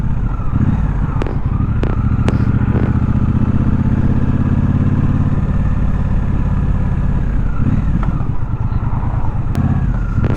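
Riding a Triumph Speedmaster motorcycle on the road, its engine a loud, steady, close rumble with wind buffeting, as another bike passes nearby.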